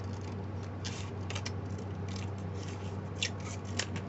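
Scissors trimming paper at an art journaling desk, a series of light crisp snips scattered over a steady low background hum.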